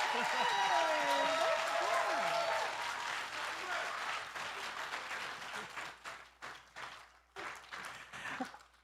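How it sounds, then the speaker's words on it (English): Applause from a seated audience at a Sukkot presentation, a steady wash of clapping that thins into scattered, uneven claps toward the end. "we need to give him one more round of applause"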